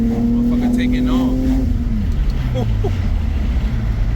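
A car with a fresh set of spark plugs, an ABS warning light and a check engine light on, pulls away with a rising engine tone that drops as it shifts, under a voice.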